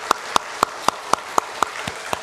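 A church congregation at a Sunday service claps in slow, evenly spaced unison beats, nine or so sharp claps in a row over a faint room background.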